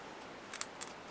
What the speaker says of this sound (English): I cut a bit around on the outsides